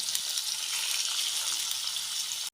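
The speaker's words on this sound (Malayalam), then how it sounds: "ലോ ഫ്ലെയിമിൽ ഇട്ടിട്ട് നമുക്ക് ഇത് ഒന്ന് വറുത്തെടുക്കാം" Continuous bright crackling sizzle of fish frying in a pan on a low flame, steady and close, with no voices, cutting off abruptly at the end.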